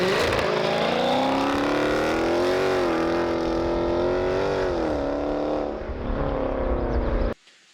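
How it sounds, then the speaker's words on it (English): A Dodge Challenger ScatPack launches under launch control, its engine roaring loud and sustained as it pulls hard through the revs. The sound holds for about seven seconds, then cuts off abruptly. "As you guys saw when I did the launch control, it actually hooked up pretty well. Of course, it spun there at the beginning"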